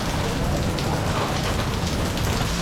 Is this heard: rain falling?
yes